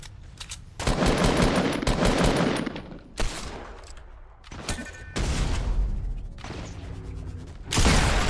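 Gunfire in the video game Fortnite, several loud close bursts of rapid automatic fire separated by short gaps, with mechanical clicks and a whooshing sound between volleys.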